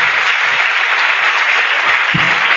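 Steady audience clapping at a Catholic versus Pentecostal debate, a dense, even wash of applause that holds at the same loudness throughout the short stretch, with no talk over it.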